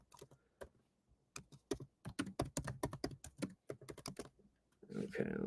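Rapid, close clicking of a computer keyboard being typed on in irregular bursts, quiet overall, with a brief louder rustle at the end.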